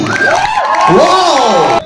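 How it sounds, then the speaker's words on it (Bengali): A crowd cheers and whoops loudly with rising and falling shouted voices, some high like children, at a meetup of YouTubers and digital creators in Siliguri opening an award programme. Steady and close for nearly two seconds, with little distinct clapping. "উজ্জ্বলের জন্য আরো আরো আরো জোরে হাততালি"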